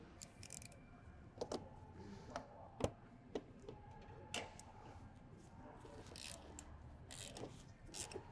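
An 18 mm ratchet on a long extension loosens strut bolts on a Gen 2 Ford Raptor truck, giving faint, scattered ratcheting clicks and ticks at low volume.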